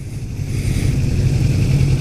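A 2018 Kawasaki Ninja 400 engine running steadily while being ridden, a loud continuous low-pitched drone with wind rush and no pauses.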